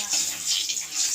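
Chilli, cardamom and cloves sizzle in hot oil for jackfruit curry, a steady bright hiss filling the pan with a few soft crackles, close and continuous.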